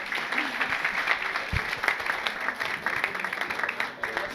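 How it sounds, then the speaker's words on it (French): Audience applause at a graduation ceremony, a steady wash of many hands clapping with faint crowd murmur throughout, moderately loud and continuous. "Merci, applaudissez encore."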